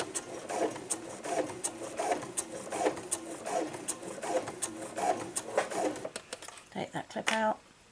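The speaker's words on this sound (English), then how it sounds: "So we're going to come 1 stitch forward, 1 stitch back, and then we're going to sew forward again." A domestic sewing machine runs in short bursts, stitching forward, back and forward again on a raw-edge fabric project, with someone talking over the rhythmic whirring.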